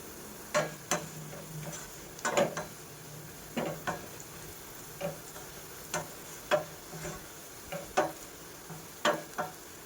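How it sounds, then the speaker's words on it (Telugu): Cabbage 65 fries crisp in hot oil, a faint steady sizzle broken by irregular sharp ticks and clinks of a utensil stirring, close by, with no talking. "క్రిస్పీగా వేగనివ్వాలి మంచిగా గట్టిగా మరీ మాడిపోకూడదు"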